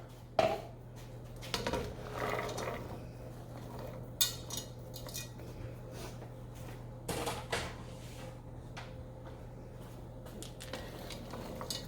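Chopped carrots, onions, celery and garlic tipped into a pot for white chicken chili, a few clattering knocks of utensils and cookware with quiet rustling between, close by.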